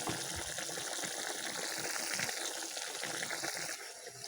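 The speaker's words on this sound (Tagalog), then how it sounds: "Kulo lang ng kulo" A pot of chicken liver adobo bubbles steadily at a rolling boil, a continuous close, dense watery simmer with no talking.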